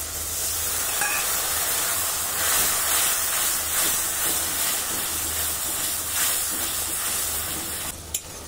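Water poured into a pan of frying onion, tomato and ground spice paste sets off a loud, steady sizzle and hiss that runs throughout, ending with a brief clatter near the close.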